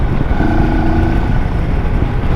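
Steady engine drone from a motorcycle being ridden, with wind rushing over the microphone, loud and continuous throughout.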